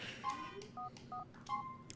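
Phone keypad tones from dialing a cheat code in Grand Theft Auto IV: four short, clear dual-tone beeps, evenly spaced, over faint game background.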